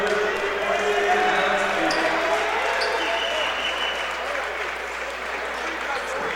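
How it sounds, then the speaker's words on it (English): Crowd in a gym at a men's college basketball game between Fontbonne and Eureka applauds as a player exits, a loud, sustained roar of clapping and crowd noise with a commentator talking over it. "Juergens gets a round of applause as he exits."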